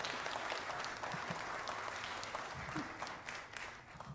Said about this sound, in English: please clap louder than anything for him